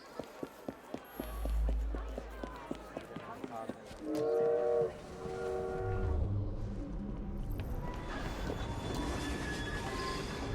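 A train in the video game Assassin's Creed Syndicate pulls away with rhythmic chuffing bursts, a brief loud whistle-like tone, then a continuous rolling rumble of wheels on track as it gathers speed.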